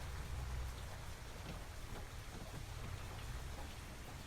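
Steady rain in Farming Simulator 25 falls on a farm, a dense, even hiss of rainfall with a low rumble underneath, continuous and fairly loud with no voices.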